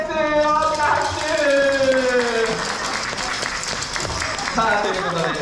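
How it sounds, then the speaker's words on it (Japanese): Audience clapping at a Kumamon gesture game show at Kumamon Square, a crowd's applause running throughout under a host's lively talk and pitched vocal sounds. "大きな拍手。"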